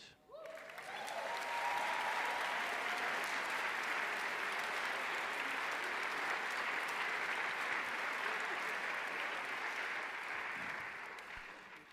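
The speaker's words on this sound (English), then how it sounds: "They earn this applause, really, and I want to join this applause and this thanks from the bottom of my heart." Sustained applause from a large audience at the prizegiving ceremony of the Marktoberdorf International Chamber Choir Competition, a broad wash of clapping that swells quickly and holds steady before tapering at the end.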